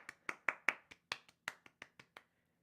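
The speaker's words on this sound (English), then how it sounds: "Round of applause for Greg." A brief round of scattered hand claps for a marble race, about a dozen sharp claps in quick succession that thin out and stop, with no one talking.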